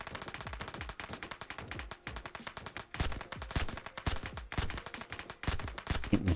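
Gunshots in the video game Surroundead come in quick bursts of sharp, rapid shots, sounding like automatic fire, with short gaps between volleys and louder single cracks toward the end.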